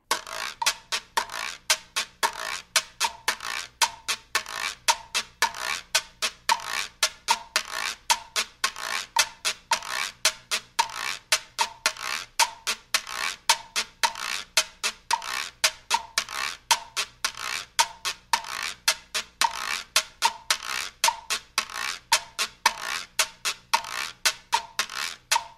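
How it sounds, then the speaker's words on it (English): A güiro scraped continuously in a brisk cha-cha-cha pattern, rasping strokes repeating in a steady, even rhythm for the whole stretch, close and clear with no other instruments or voices. "Now the güiro sounds like this."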